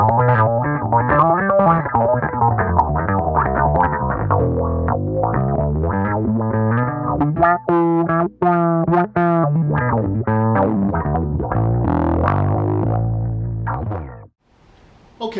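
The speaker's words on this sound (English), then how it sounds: "Alright, here's a little wah-wah action for you." Epiphone Thunderbird Classic Pro bass run through a wah-wah pedal, playing a loud, continuous riff whose tone sweeps up and down in a vocal, quacking way, with brief gaps before stopping near the end.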